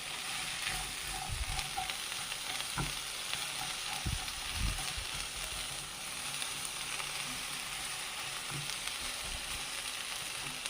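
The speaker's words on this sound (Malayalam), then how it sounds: "ഇതിനെ ഉപ്പൊക്കെ അതിലേക്ക് മിക്സായിട്ട് വരാൻ വേണ്ടിയിട്ട് നമുക്കൊന്ന് ഇളക്കി കൊടുക്കാം" Okra sizzles steadily in a frying pan as it is stirred with salt, with soft scraping strokes and a few louder knocks of the spoon over a constant hiss, no voices.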